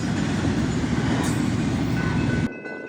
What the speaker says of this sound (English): See the Local's 2 SD40-2s on a light power move back into Sealy